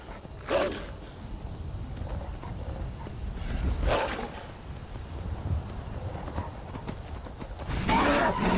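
Horse in the Skyrim video game: a few whinnies and neighs rising out of a rustling outdoor ambience with intermittent hoof clip-clop, moderately loud against steady game background noise.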